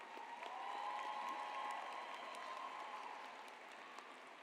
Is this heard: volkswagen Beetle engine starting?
no